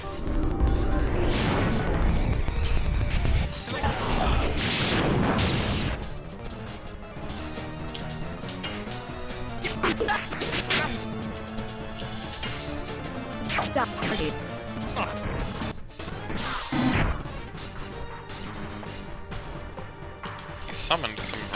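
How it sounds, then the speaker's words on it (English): Barrage attack in the PlayStation RPG The Legend of Dragoon, with bursts of crashing explosions and impacts layered over game music, loud at first and then settling into busy background effects. "He summoned some barrage, I guess."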